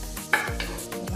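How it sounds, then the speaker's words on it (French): Food coated in oil being stirred in a slightly too-small pan before roasting, with a few close scraping strokes and soft clatter over a faint sizzle. "je vais remuer un peu"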